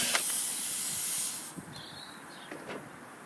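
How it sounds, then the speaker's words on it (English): Air escaping from an off-road tyre after a nail is pulled out, a steady close hiss that is strong at first, then drops to a quieter, continuing leak with faint knocks. "Once you've pulled out the nail or screw"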